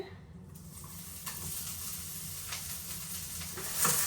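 Malabar spinach and chopped onion frying in oil on a stove, a steady soft sizzle and hiss running throughout, slightly louder toward the end, with faint clinks over it and no talking.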